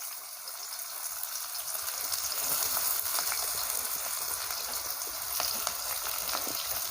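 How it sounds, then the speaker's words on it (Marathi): Onion frying in a pan for kanda poha, a continuous soft hiss and sizzle with faint crackles, steady and close throughout with no talking. "कांदा आपल्याला चांगला असा भाजून घ्यायचा आहे मस्त लाल रंग येतोपर्यंत आपल्याला कांदा भाजायचा आहे"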